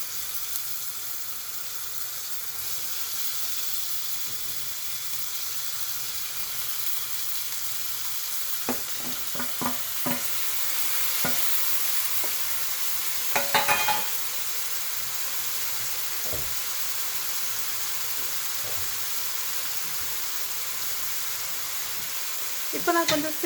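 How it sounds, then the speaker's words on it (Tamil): Chopped tomatoes sauté in a chana masala pan on a low simmer, a steady soft sizzle running throughout with a few brief stirring clinks and scrapes, no talking. "இப்போ நான் கொஞ்சம் சிம்மரில் போட்டு சாட் பண்ணுறேன், அப்போ தான் தக்காளி நல்லா வேகும்."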